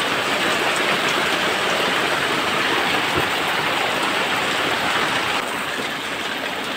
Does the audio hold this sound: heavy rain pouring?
yes